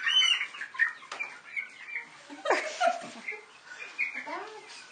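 Young Sussex chickens around eight to ten weeks old cluck and chirp on a farm, a busy, steady chatter of several birds close by with some wing flapping mixed in.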